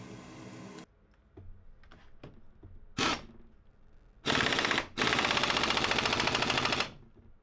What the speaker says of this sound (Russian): Далее одеваем фланец и закручиваем гайку.